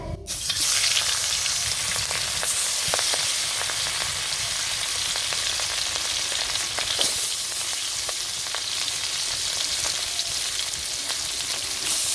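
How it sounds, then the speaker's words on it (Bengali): A large fish frying in hot oil in a kadai wok during village cooking, with a dense, continuous sizzle scattered with sharp crackles and pops, loud and close. "তাহলে এসে করছে কড়াইতে আমি মাছটা দিয়ে দিই"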